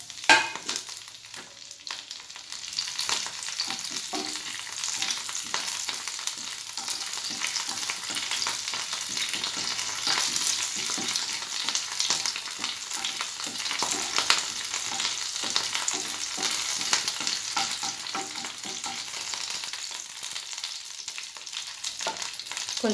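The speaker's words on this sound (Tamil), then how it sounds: "இப்போது கறிவேப்பிலை சேர்த்துருங்க." Curry leaves hit hot oil and fry with a loud, dense, continuous crackling sizzle that holds steady throughout, close to the pan with no voices.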